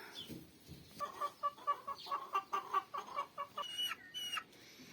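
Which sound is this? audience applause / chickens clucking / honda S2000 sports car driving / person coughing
chickens clucking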